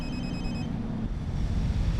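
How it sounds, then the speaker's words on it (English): A mobile phone rings with a short run of high electronic beeps in a bus simulator game, heard briefly over the constant low rumble of a double-decker bus engine, which carries on alone after the beeps stop. "That's a mobile phone."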